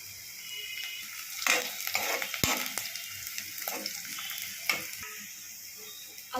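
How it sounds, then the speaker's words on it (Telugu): Chicken curry in a pan, with a bay leaf and four cloves being stirred in: sizzling frying under repeated scraping, swishing strokes of a spoon, close up, with a few sharp clinks against the pan. "ఇప్పుడు అందులోకి బిర్యానీ ఆకు, అలానే 4 లవంగాలు వేసుకొని మంచిగా కలబెట్టుకోవాలి"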